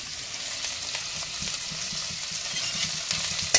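Food fries in a pan for a quick homemade snack, giving a steady, close, crackling sizzle with no voices.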